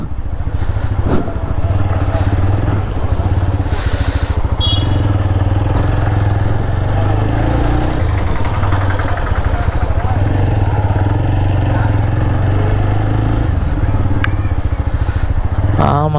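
Motorcycle riding along a road toward Marudhamalai hill temple, a loud steady engine drone close by with wind buffeting, running continuously throughout, with occasional voices underneath.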